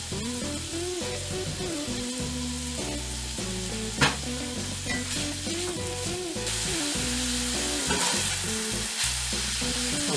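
Pork sizzling and frying in a hot pan over high heat for fried rice, steady crackling with intermittent stirring scrapes and clanks, close and moderately loud.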